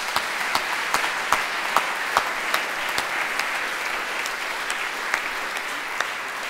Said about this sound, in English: I think we should give them some applause